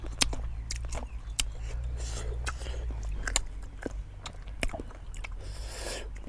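Crunchy sour green mango, eaten with sugar, bitten and chewed close up, giving a series of sharp crisp crunches over a low steady background hum, with no talking.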